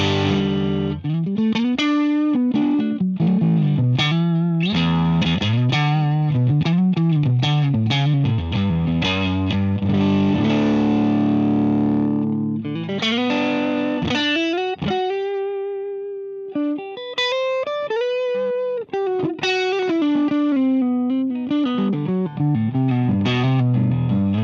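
A Parts Caster electric guitar on its neck single-coil pickup plays a distorted, melodic lead line through a Laney LA-Studio amp, sustained notes and quick phrases, loud and alone.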